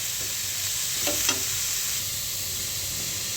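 Carrots frying in ghee give a steady broadband sizzle throughout, with a couple of brief scraping stir strokes near the middle, close and fairly loud, with no voices.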